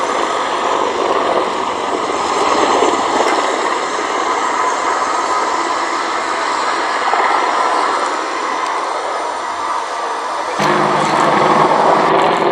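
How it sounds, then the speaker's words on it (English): British Apache attack helicopters fly at the Duxford air show with a loud, continuous rotor and engine roar that stays steady throughout, surging slightly near the end. "The British Apache is built in the UK by Duxford."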